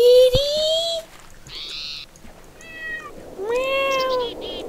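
Several cat meows inside the video game Technic, drawn-out mewing calls with rising and falling pitch, near and clear, coming in a few separate bursts with short pauses between them.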